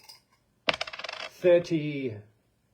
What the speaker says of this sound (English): Okay, so I'm going to use the magic divining coins.